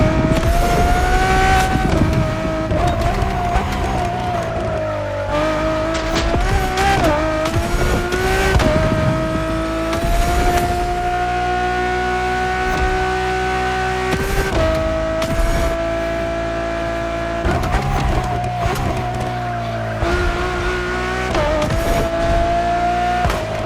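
A Ferrari road-legal supercar in The Crew Motorfest on PS5 races hard, its engine sustaining a loud, high, rising and falling wail through gear changes, with bursts of tire squeal and impacts.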